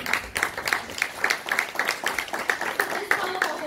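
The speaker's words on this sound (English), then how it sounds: "A round of applause for them, please." At a blockchain meet-up party, the audience gives the event organisers a round of applause: a crowd claps in a fairly regular rhythm, mid-distance and moderately loud, throughout the whole stretch.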